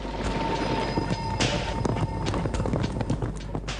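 Horses galloping with a dense, rapid clatter of hooves over a low rumble, loud and continuous, in a documentary scene of mounted Huns entering Europe.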